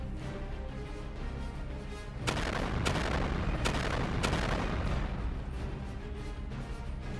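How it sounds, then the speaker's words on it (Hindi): A loud, heavy missile blast erupts aboard a ship partway through, followed by sharp repeated cracks and a sustained rumbling roar over constant background noise. "वैसे ही जहाज में जोरदार ब्लास्ट होता है"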